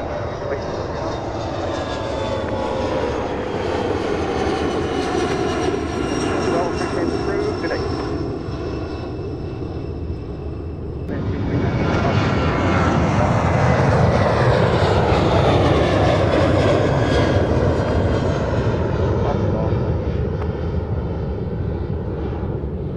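Fixed-wing airplane taking off from runway 28 left at Fort Lauderdale (FLL) airport, a loud sustained engine roar that builds and swells after the midpoint, with tower radio talk heard over it.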